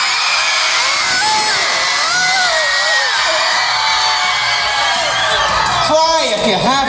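A huge concert crowd at a tour show screams and cheers at full volume, a dense, sustained roar with whoops and high shrieks throughout.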